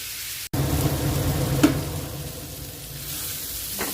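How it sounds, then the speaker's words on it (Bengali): Chicken sausage sautés in a pan until lightly browned, giving a steady close sizzle with a brief sharp clink partway through and no voices. "সসেজটাকে অল্প একটু ভাজা ভাজা করে নেবো একটু ব্রাউন কালার হওয়া পর্যন্ত"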